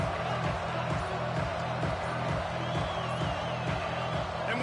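A stadium crowd in a college football video game roars as a constant, dense wash of cheering, with steady rumble beneath and faint whoops rising above, continuous throughout.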